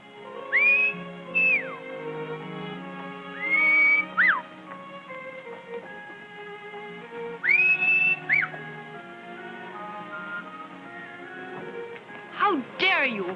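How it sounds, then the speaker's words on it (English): Several sharp rising-and-falling human whistles, repeated in short bursts, over an orchestral film score and voices in a 1939 Western street scene. "I could have sworn I recognized that whistle."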